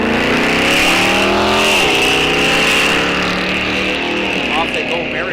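Drag race cars launch side by side at a bracket race, one of them a Mopar, with loud rising engine revs and gear-change sweeps that stay close and dominant throughout, under a track announcer's voice.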